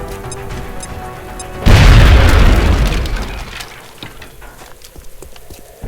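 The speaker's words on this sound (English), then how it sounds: "if we pop a grenade out here, everything in red will get blown up" A grenade blast in XCOM: Enemy Within booms loud and sudden after a quiet stretch, its broad roar and debris rumble decaying over a few seconds into scattered crackles.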